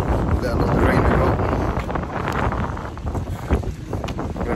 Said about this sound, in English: Very windy here at the moment as well.